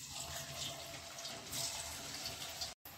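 Cabbage manchurian balls dropped one by one into hot frying oil, giving a steady close sizzling hiss with a brief silent gap near the end.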